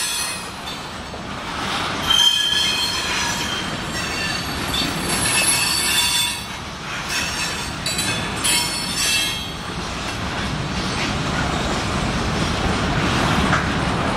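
A Union Pacific freight train rolls forward with wheels squealing in high, wavering whines over a continuous rail rumble, loud and close for the whole stretch, with no talk.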